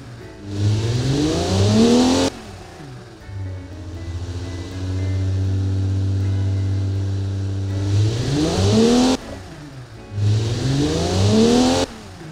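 A simulated pushrod engine in the car-building game Automation revs repeatedly, climbing through rising sweeps, settling into a steady droning hum, then revving up hard again in short bursts, loud with no talking.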